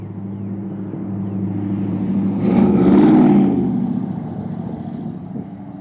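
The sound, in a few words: very loud truck revving past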